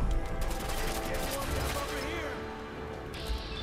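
Raider gunfire in Fallout 4: a dense run of game gunshots and impacts keeps up steadily throughout, with a voice talking over the shooting.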